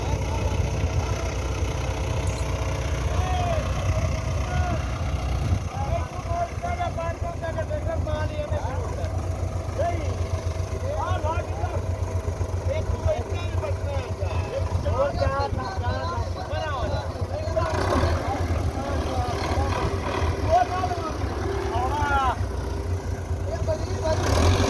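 A tractor engine drones steadily while it hauls a trolley stuck on a canal bridge by a chain, a continuous low rumble running throughout beneath ongoing talk from people nearby.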